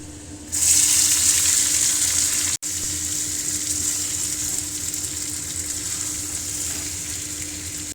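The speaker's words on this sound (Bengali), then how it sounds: "আলুগুলো হালকা করে ভেজে নেব।" Potatoes frying in a pan for a vegetarian potato dish, a loud hissing sizzle that swells after a quiet start and continues steadily, with a brief cut and faint stirring underneath.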